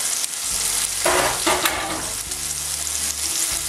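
Red onion bulbs frying in a pan, with a steady broadband sizzle under repeated scraping stirs of a utensil, heard close and fairly loud with no talk.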